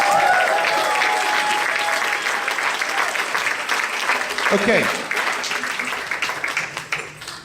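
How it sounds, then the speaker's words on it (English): Group applause from seniors at a drumming practice session, a dense steady clatter of clapping that fades slightly toward the end, with a brief spoken word partway through. "Give yourself a round of applause"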